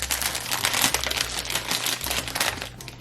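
Crinkly plastic surprise bags being handled and cut open with scissors, a steady dense rustle and crackle of packaging with quick snipping clicks, close and continuous throughout.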